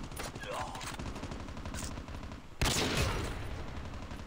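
Rapid gunfire in a Call of Duty Mobile free-for-all sniping match, steady bursts of shots that grow louder and denser partway through, with game sounds and a voice mixed in.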